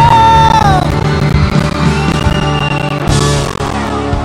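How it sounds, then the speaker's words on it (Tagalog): A large crowd at an evening congressman's event in Misamis Occidental yells and cheers loudly and continuously, a dense wall of voices with a sustained tone fading early and a brighter surge near the end. "Everybody make some noise for the last time!"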